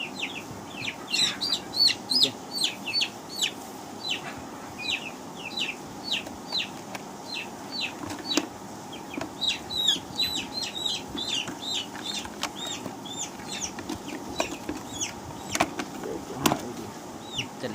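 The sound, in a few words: chicks clucking while being caught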